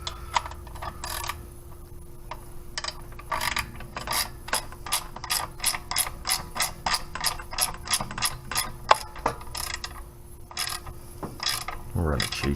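A ratchet wrench tightening a bracket bolt, giving loud, close bursts of rapid clicking in irregular runs with brief pauses between strokes, alone without talk.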